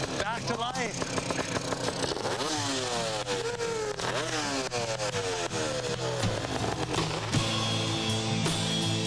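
A two-stroke Yamaha RD350 café racer motorcycle revving hard, its engine pitch rising and falling repeatedly in sharp, buzzy sweeps, loud and close, with people talking underneath.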